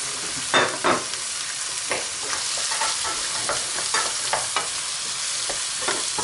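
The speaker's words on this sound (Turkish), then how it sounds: "Şimdi üzerine domateslerimizi ilave ediyoruz." Tomatoes go into squid frying in a pan, bringing a steady hiss of sizzling oil broken by several scraping stirs of a utensil, close and clear with no talking.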